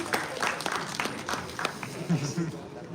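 Audience at a university quiz event applauds a correct answer, scattered clapping mixed with talking voices, moderately loud and brief.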